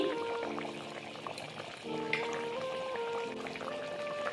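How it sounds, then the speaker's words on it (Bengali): Potatoes boiling in a covered pot with salt, green chilli and coriander leaves: a steady, close bubbling and rattling simmer with faint whistling tones, continuous throughout with no talking. "ঢাকা দিয়ে আলুকে খুব ভালোভাবে সেদ্ধ করে নেব"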